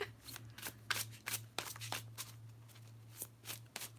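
Playing cards being shuffled by hand, a quick series of crisp riffling bursts repeating in an uneven rhythm, close and clear over a low steady hum.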